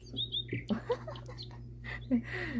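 Short, high chirps from a small bird come in scattered bursts over a steady low hum, fairly close and moderately loud.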